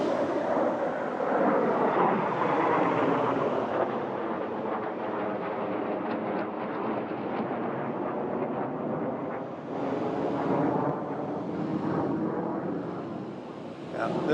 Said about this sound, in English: there is a huge plane flying over. It's gotta be a military cargo